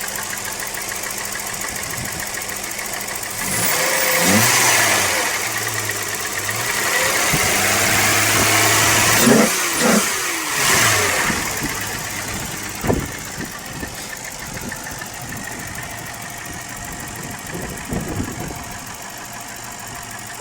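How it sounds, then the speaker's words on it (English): A Peugeot 505 STX V6 engine runs steadily, with two louder revving swells midway, then settles to a rough idle with scattered knocks and clunks nearby. "these engines are just a delight to drive. They make nice noises at high RPM too."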